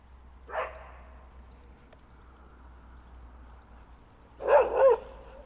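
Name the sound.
big dog barking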